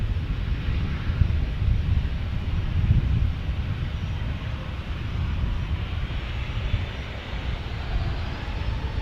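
A United Airbus A321neo airliner flying past San Diego airport, a broad steady engine roar with deep rumble that stays loud throughout, mixed with wind buffeting on the microphone.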